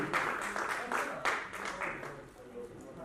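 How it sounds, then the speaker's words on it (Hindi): Applause from an audience at a charity trust's national award ceremony in Jaipur, steady clapping with scattered louder bursts, sustained across the whole stretch with a crowd murmur beneath. "तो एक बार शिखा शर्मा जी के लिए जोरदार तालियां।"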